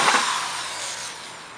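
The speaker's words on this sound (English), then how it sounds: "and I'll just go ahead and drill right through here." A drill bit bores a half-inch hole through a ceramic water filter bucket, making a brief, close, steady whirring hiss that fades slightly over under two seconds.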